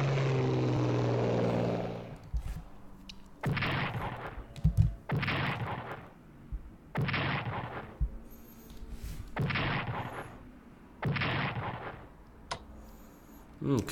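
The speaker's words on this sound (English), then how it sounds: "Let me take some of these bombers and go ahead and hit these French positions." Bombers attack French positions in the strategy game Strategic Command, with a sustained aircraft roar followed by a series of evenly spaced explosive blasts, each lasting about a second, at moderate volume.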